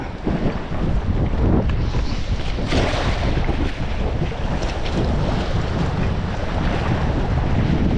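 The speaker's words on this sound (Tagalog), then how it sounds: "Lakas ng hangin, no?" Strong wind buffets the microphone in loud, continuous gusts out on the water, with waves and surf roaring underneath and no talk.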